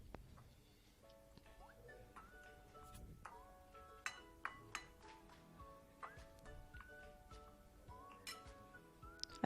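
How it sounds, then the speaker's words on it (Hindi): A spoon clinks and taps against a bowl while ground spices are stirred together for a fried fish marinade, giving light, irregular metallic ticks over a soft background hum, with a few sharper clinks toward the end. "अब इनको अच्छे से हमने मिक्स कर लेना है चम्मच की मदद से।"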